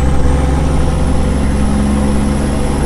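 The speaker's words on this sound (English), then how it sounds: "Like right now, I'm gonna engage the Jake brake" Peterbilt 379 truck with a CAT engine and 7-inch straight pipe running its Jake brake, a steady loud low rumble with dense harmonic drone throughout, close and continuous with no talk.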